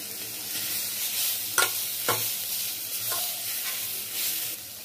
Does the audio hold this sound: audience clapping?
no